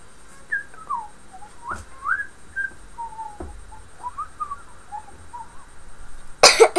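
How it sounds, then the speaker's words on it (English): Soft, wavering whistled notes run for several seconds, broken by a few quiet thumps, before a sudden loud cough bursts out at the end. "I seem to always cough when I whistle too much."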